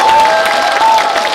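Audience applause at a packed political constituency report meeting in a hall, a short dense burst of clapping close up with faint crowd noise.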